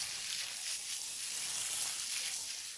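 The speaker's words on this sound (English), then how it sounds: "I'm going to carefully turn each piece over and we're going to fry it again." Salmon pieces fry in a pan, giving a soft, continuous hiss and crackle that stays faint and steady throughout.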